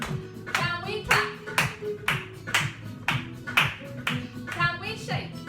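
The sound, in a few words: children clapping hands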